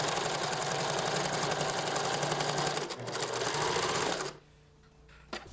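A sewing machine stitches a linen seam in a long, loud, steady mechanical run, then stops, leaving a quieter hum with a brief click near the end.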